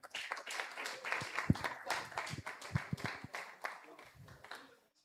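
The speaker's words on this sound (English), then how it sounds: "Yeah, man, clap." Scattered clapping from an audience at a community hero awards ceremony, a handful of sharp, close claps mixed with talk and murmuring that fades out near the end.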